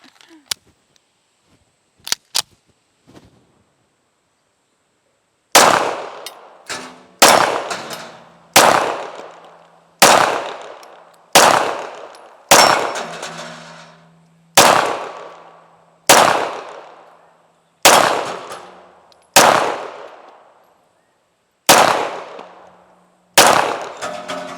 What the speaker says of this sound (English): Sometimes it takes those targets a little bit longer to fall down